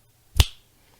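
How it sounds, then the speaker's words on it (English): A single sharp finger snap, close and crisp, standing alone in an otherwise quiet room with a short decay. "I'm about to snap my fingers."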